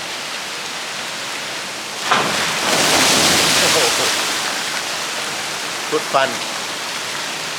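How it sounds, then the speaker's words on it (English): Splashing, rushing water from a children's water park at a Phuket hotel pool swells into a loud broadband burst for a couple of seconds, then eases to a steady wash; a person speaks briefly near the end. "Here's water park for kids."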